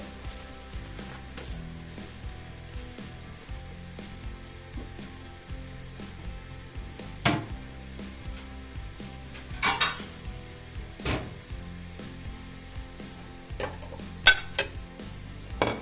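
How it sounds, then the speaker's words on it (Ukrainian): Onions sizzle quietly in a pan for a sauce while a utensil clinks and scrapes against it now and then, with a few louder knocks. "Не забути перемішувати цибульку, що в мене смажиться ще на, на підливу"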